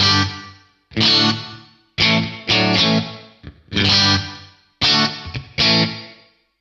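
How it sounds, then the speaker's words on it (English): Electric guitar chords strummed one after another through a Crazy Tube Circuits Splash reverb pedal, each ringing out into a washy reverb tail before the next hit. No talking. "It's just one of those effects where you go, yeah, I guess that sounds like reverb."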